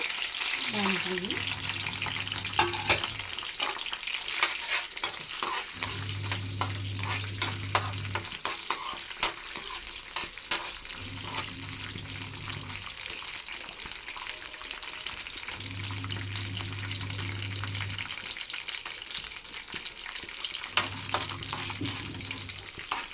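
Loud, continuous crackling and sizzling of tempering spices frying in hot oil for pulihora, with a low hum pulsing on and off in the background.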